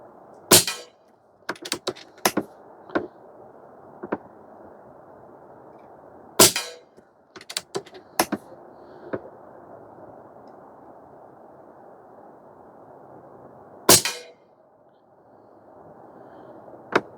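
Sharp, isolated shots from an Umarex Gauntlet 2 SL22 PCP air rifle firing 21.53 grain JTS pellets at 25 yards, a few loud cracks with quieter ticks between them over a low steady hiss.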